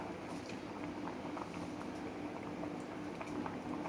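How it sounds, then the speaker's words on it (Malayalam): A Kerala fish curry boils in a pot with a soft, continuous bubbling and popping, a low and steady simmer with no voices. "കറി നന്നായിട്ട് തിളച്ചിട്ടുണ്ട്."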